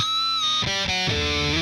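A metal guitar plays a short, loud riff straight into an amplifier plugin with no tube screamer, giving a raw, distorted tone of sustained chords and choppy palm-muted notes.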